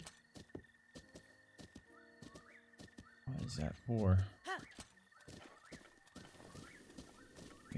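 A horse in The Legend of Zelda: Breath of the Wild gives a sharp loud whinny midway, amid soft hoof clops and game tones, with a voice speaking briefly.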